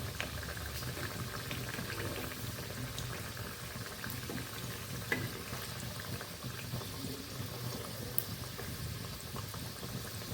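Pakon kuli pitha, a traditional Bengali sweet rice cake, fries in hot oil over low to medium heat. A steady, dense bubbling hiss continues evenly, with an occasional faint clink and no voices.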